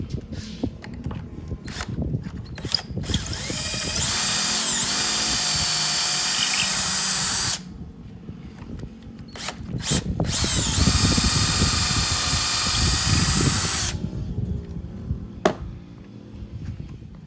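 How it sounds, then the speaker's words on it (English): A power drill drives screws into an above-ground garden bed in two long sustained whirring runs, loud and close, separated and framed by clicks, clanks and handling noise. "So I got the first one drilled."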